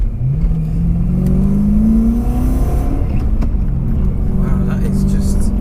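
A supercharged 650 bhp BMW M3 engine revs up with a rising growl, then settles into a steady rumble, loud and close, with voices talking over it.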